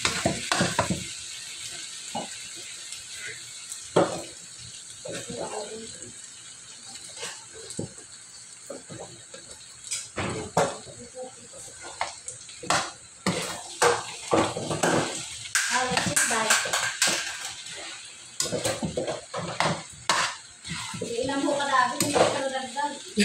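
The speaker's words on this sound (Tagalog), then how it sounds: "Ito na guys, haluin natin. Tapos lagyan natin ang garlic." Adobo garlic fried rice is stirred in a sizzling pan: constant frying hiss with repeated scrapes and clatters of the utensil against the pan, while a person talks over it.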